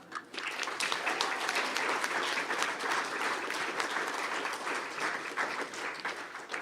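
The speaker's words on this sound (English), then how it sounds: "Can we give these guys one more round of applause?" Steady audience applause for students at a school board meeting, honoring state competitors, dense and continuous from start to finish at an even, full level.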